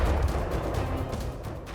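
Explosion from a Russian weapons test at the Nyonoksa testing range, Russia, on 8 August 2019: a loud, continuous low rumbling roar that holds steady through the whole stretch without a break.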